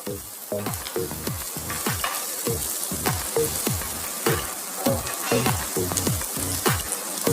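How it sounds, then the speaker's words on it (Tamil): Onions sautéing over high heat in a pan up close, a steady sizzle punctuated by quick rhythmic stirring scrapes throughout. "மூணு பெரிய வெங்காயம் பொடியை நறுக்கினது போட்டு அடுப்பை ஹை ஃப்ளேமில் வச்சு வெங்காயத்தை வதக்குங்க."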